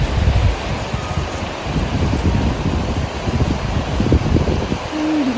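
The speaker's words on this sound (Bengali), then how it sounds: "এই নদী বয়ে যাচ্ছে, ঠান্ডা হাওয়া, সুন্দর আওয়াজ হচ্ছে।" The Kameng river flowing past a tiger reserve in Arunachal Pradesh, heard as a steady, loud rushing roar of water mixed with cold wind buffeting the microphone, continuous with no talk.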